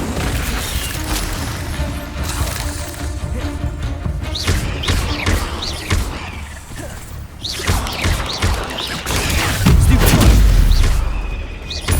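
Incendio fire spell being cast in Hogwarts Legacy, loud whooshing bursts and booming impacts repeating through a busy, chaotic stretch of combat effects, with a heavier rumbling blast near the end.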